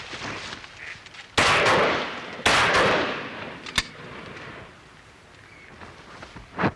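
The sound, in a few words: shotgun firing at ducks during a duck shoot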